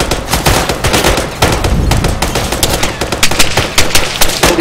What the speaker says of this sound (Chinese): 继续射击，继续射击